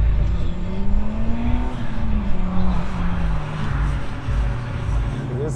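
Mitsubishi Evo time attack car lapping a low-grip track, its engine droning steadily from inside with a slowly shifting pitch, loud and continuous under road and wind noise.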